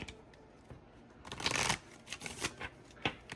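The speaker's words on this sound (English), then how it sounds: "I'm going to shuffle one more time because something's telling me to keep shuffling" Tarot cards being shuffled by hand, a dense riffling burst in the middle followed by several short sharp card slaps and flicks, close and fairly quiet with no talk.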